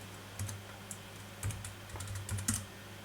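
Keys clatter on a computer keyboard as text is typed for a graphic design, a few sparse bursts of keystrokes at close range with no talking.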